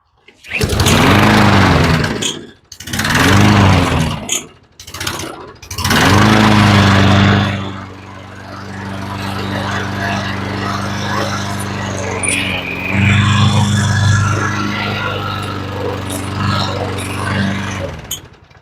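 A Craftsman lawn mower that fails to start: three loud pull-cord cranks with sputtering bursts, followed by a rougher, longer cranking drone that holds for several seconds without catching.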